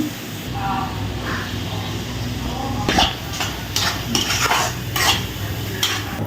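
Ingredients fry in a pan for a special home-cooked lunch of bagara rice, with a steady sizzle under scattered spoon scrapes and clinks against the pan, fairly close and moderately loud.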